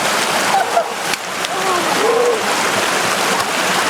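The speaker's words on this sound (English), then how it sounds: "we actually walked down this stream for about a half mile" Hikers wade down a cold stream, with continuous close splashing and rushing water and faint voices under it.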